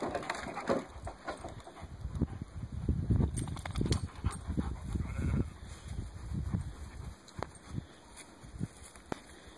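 Tracking dogs move about nearby, snuffling, panting and rustling through brush, with scattered scratching and a few crunching sounds, mostly close and moderately loud.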